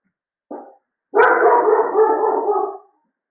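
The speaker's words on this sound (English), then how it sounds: "He has a very piercing bark" Indoors, a dog gives a short, sharp yip followed by a longer, piercing, drawn-out bark-howl lasting under two seconds, loud and close with nothing else heard.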